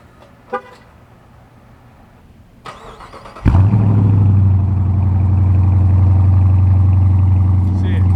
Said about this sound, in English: let's go ahead and do a little cold start on this so you guys can hear it